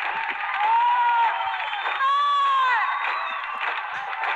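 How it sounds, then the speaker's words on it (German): Audience at a New Year's sing-along gala applauding and cheering, with whoops and shouted voices riding over sustained clapping, loud and close throughout. "Also wir hätten noch ein bisschen Applaus für dich"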